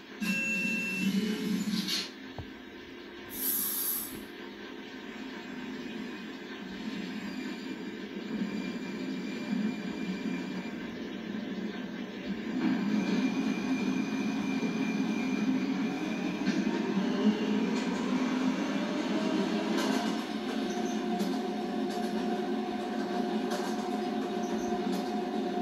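A 2022 Alstom R subway train on a local run runs steadily with a low rumble and mechanical whine, interrupted by a brief high beep early on, the noise swelling as it gains speed.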